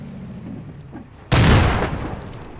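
A tank fires its main gun in ARMA 2, one sudden loud close blast after a low engine rumble, followed by a decaying roar.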